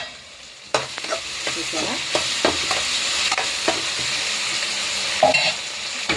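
Tomatoes softening as they fry in a pan, with a steady sizzle and repeated scraping stir strokes, close and alone. A short burst of a voice is heard once.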